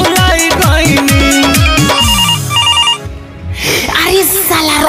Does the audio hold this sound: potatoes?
no